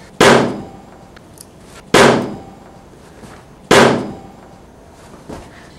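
Three loud gunshots at a rabbit, sharp cracks spaced evenly about two seconds apart, each decaying quickly, with a fainter fourth pop at the end and no talk.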